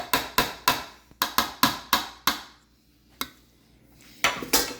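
Cornbread batter is mixed by hand in a bowl, heard as a series of sharp, close knocks and clacks from the utensil striking the bowl, coming in quick bursts with short pauses between.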